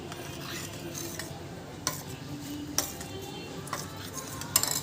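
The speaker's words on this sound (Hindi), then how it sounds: "हमने जो घोल बनाया है इसे तो इस थोड़ा सा इस तरह से घोल लेंगे" A spoon stirs bread-and-potato snack batter in a bowl, making soft repeated clinks and scrapes at close range, with a few sharper taps against the rim.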